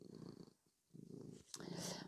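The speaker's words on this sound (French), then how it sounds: "Si vous entendez ronronner, c'est normal." A domestic cat purrs close by indoors, a soft, low rumbling in rhythmic pulses with a short pause partway through.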